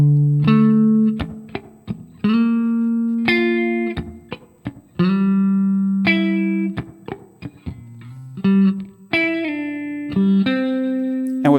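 An acoustic guitar plays a variation of a song, with repeated strummed chords and sharp attacks in a steady rhythmic pattern, close and clear, with no voice.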